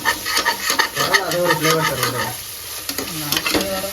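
Red chillies frying in hot oil for a restaurant-style chicken biryani, a steady crackling sizzle with scraping stirs, while a voice talks over the pan throughout.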